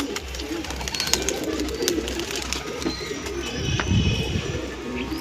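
Pigeons coo close by in a home loft, soft repeated rolling coos in a steady rhythm over light background noise, with a few faint chirps mixed in.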